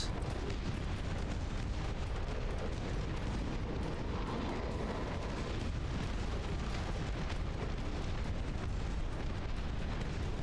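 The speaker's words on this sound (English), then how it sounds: "there are rockets coming out of the BTR" Rockets fire from a BTR in the Dust Front RTS game, a dense, constant barrage of blasts and rumbling explosions that keeps up throughout, with no clear gaps.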